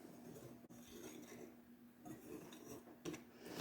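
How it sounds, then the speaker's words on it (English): A whisk works gluten-free sugar cookie batter in a bowl, making quiet, close scraping and metallic clinks with a couple of sharper knocks against the bowl's side. "As you're whisking, try to get any large clumps of flour out"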